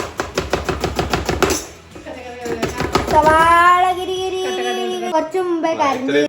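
Knife chopping onion on a board for a salad, a quick steady run of sharp thuds at close range, then singing-like voiced sounds and talk take over the second half.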